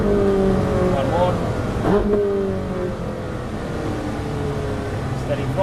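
Race car engine held at steady throttle on a track, a continuous droning tone with a slight pitch dip mid-way, heard from inside the car while a voice talks over it.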